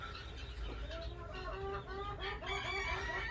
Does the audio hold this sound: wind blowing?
no